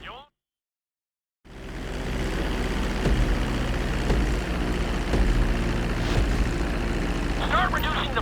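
A plane in Grand Theft Auto V drones on approach for a runway landing, a steady broad engine and wind roar after a brief silence, with a few faint chirps near the end.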